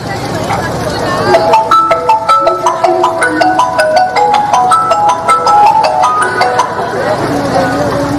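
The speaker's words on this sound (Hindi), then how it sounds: "अब्बू को फोन लगाती हूँ" A phone ringtone plays a repeating melodic tune of quick electronic tones, loud and close, over faint background hum with no talk.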